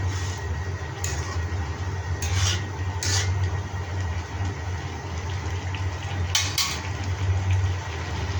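Boiled taro leaves (kochu shak) are mashed in a pot, giving a continuous rough rubbing and scraping texture with a few sharp clicks against the pot, steady and fairly close.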